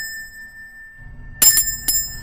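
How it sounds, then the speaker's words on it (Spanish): A small hand bell is rung twice in quick succession, bright and close, with a faint steady tone and low room hum underneath. "voy a utilizar un poquito la campana"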